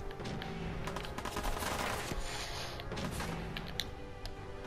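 Gunfire in Fallout 4 sounds as rapid, loud, cracking bursts of shots in close succession, stuttering on and off throughout with no pauses for talk.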